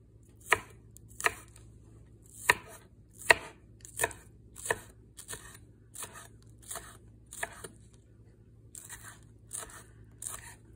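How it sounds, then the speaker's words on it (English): Sharp, evenly spaced knife strokes slice green onions (scallions) at an angle on a board, about a dozen close crisp chops with a brief pause near the end, no voices. "I'll take a green onion or a scallion and I'll just cut these at an angle"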